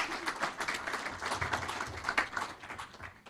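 Audience applause for a guest lecturer at a talk on contract law, a spread of hand claps that is fairly quiet and even, lasting a few seconds with no speech over it.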